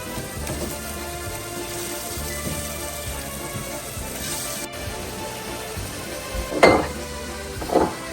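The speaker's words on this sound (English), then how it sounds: "we're gonna cook this until everything has simmered down and reduced and the milk has evaporated" A ragù sauce made with milk simmers and reduces in a pan, giving a steady, soft sizzling bubble throughout, with a couple of louder spoon or pan clinks near the end.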